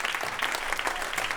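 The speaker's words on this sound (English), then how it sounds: "one last round of applause" Audience applause at a live music and craft beer event, a brief steady patter of many hands clapping at moderate loudness.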